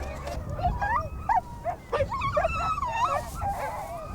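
Several hungry, very skinny stray dogs bark, yip and whimper nearby in an outdoor street setting, with repeated short whines and yelps rising and falling over a low rumbling background.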